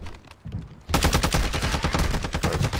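Rapid gunfire in a shooting video game, a few separate shots followed by a loud continuous automatic burst, close and dense.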